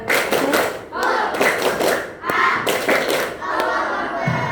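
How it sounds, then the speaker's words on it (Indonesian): Children in a classroom clap their hands during a clap chant, with sharp, rhythmic bursts of clapping and thumps that come in quick groups, mixed with young voices chanting along. "Satu kali tepuk semangat."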